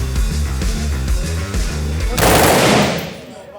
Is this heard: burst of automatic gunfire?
yes